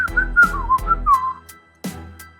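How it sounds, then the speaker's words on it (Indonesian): A man whistles a short, wavering melody in an audio drama scene, the tune rising and falling over about a second and a half amid soft footsteps or movement thumps, with a few sharp taps after the whistling stops. "Berdiri dengan tenang dan kembali bersiul-siul."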